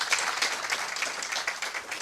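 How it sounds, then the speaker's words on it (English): An audience applauds the head of a corporate communications team, a steady wash of many hands clapping at an even level for about two seconds with no voices on top. "I think she deserves another round of applause"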